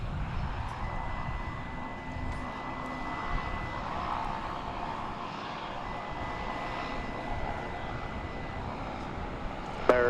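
An airplane at DFW Airport during nighttime plane spotting gives a steady, distant broadband roar of aircraft engines that holds evenly throughout, with a brief louder bump at the very end.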